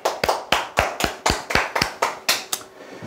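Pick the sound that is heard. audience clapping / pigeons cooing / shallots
audience clapping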